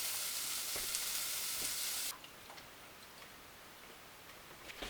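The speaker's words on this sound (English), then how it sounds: "I'm going to add the broth." Broth pours into a hot pan of browned vegetables, a loud hissing sizzle that drops abruptly to a quieter simmering bubble with faint ticks and scrapes, no voices.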